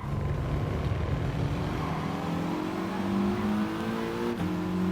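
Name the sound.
Mitsubishi Lancer Evo Final racing at Tsukuba, from a video game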